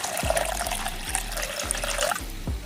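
Water poured into a cooking pot of vegetables for a traditional Maharashtrian hulpali dish, a close, steady gurgling pour with rising pitch as the pot fills, then a few brief knocks.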